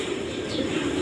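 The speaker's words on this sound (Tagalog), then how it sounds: "Napakadami pong ibon dito." Dense flock of imported pureline pigeons cooing together in a large pigeon loft at a breeding facility, a steady close murmur of overlapping coos with no pauses and no talk.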